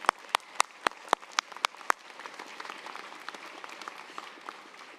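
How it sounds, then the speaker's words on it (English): A burst of sharp, separate claps rings out, then fades into a softer, denser patter of many hands applauding from a crowd at a university architecture and design commencement ceremony. "offer them their round of applause"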